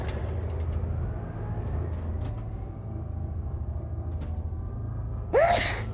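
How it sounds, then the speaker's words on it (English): A single sharp sneeze bursts out near the end, loud and close, after several seconds of low engine-like rumble and faint background noise. "God, why am I sneezing?"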